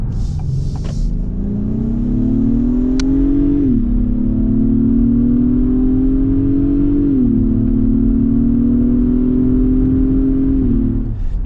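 A 2022 Acura MDX in sport mode accelerates hard, its engine droning loud and close as the pitch climbs through gear after gear with brief dips at each shift, steady and unbroken.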